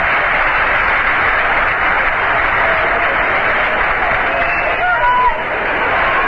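Shea Stadium crowd during the 1973 NLCS applauds batter George Stone, a loud, broad, steady wash of clapping and crowd noise with faint voices in it, from an old broadcast recording.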